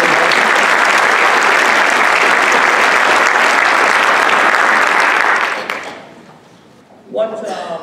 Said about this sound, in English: Could you give them one more round of applause?